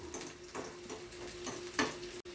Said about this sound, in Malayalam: വെളിച്ചെണ്ണയിൽ ചെറിയ ഉള്ളി അരിഞ്ഞിട്ട് മൂപ്പിച്ചെടുക്കുകയാണ്